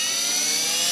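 Trex 600e Pro DFC radio-controlled flybarless helicopter at about 2600 rpm head speed during a 3D test flight, a loud, steady, high-pitched whine filling the moment without pause.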